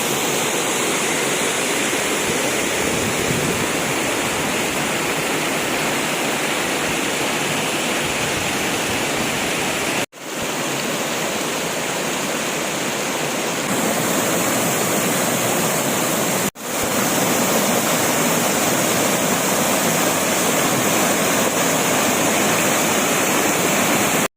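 Sam Lan waterfall in a wildlife and plant sanctuary in Sisaket, Thailand, roars as a loud, steady, broadband rush of falling water heard up close, with two brief dropouts and no one speaking.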